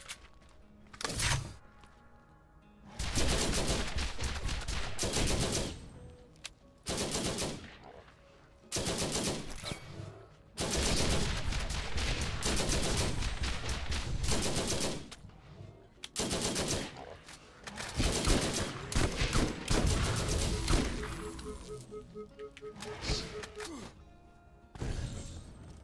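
Borderlands video game combat with long bursts of rapid automatic gunfire alternating with brief lulls, loud and close, with shattering impacts and mechanical clanks; someone talks intermittently between the volleys.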